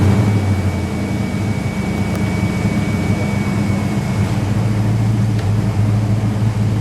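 Steady, loud engine drone from a 1992 Ford Mustang Shelby SAAC Mk I with a 5.0 liter V8, a continuous throaty roar held evenly at high revs with little variation, close by and alone.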